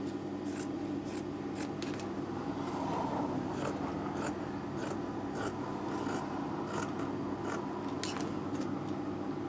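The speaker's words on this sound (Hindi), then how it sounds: "तो ये कपड़े की जो है हम 2 बराबर पट्टियाँ काट लेते हैं।" Scissors cut cloth into two equal strips for a salwar kurta, giving a steady run of crisp, close snips and rasping blade strokes with no voices.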